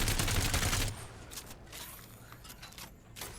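Rapid automatic weapon fire in the game Apex Legends, a dense loud burst for about a second that cuts off, followed by quieter game ambience and faint mechanical clicks.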